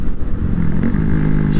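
An old motorcycle passes on a rough road, its engine a loud, steady drone that holds close throughout, heard over the hum of another moving bike.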